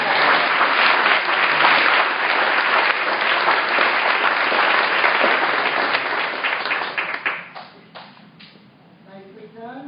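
An audience at a graduation ceremony at a center for the blind gives sustained, dense applause that thins out and fades in the final seconds, with scattered claps and speech trailing in.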